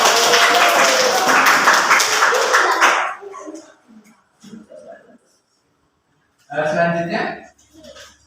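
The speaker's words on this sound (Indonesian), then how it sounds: "Beri tepuk tangan untuk kelompok takbir." A classroom group claps loudly and briskly together for a few seconds, then the room goes mostly quiet with scattered small taps and soft voices, and a second short burst of clapping follows.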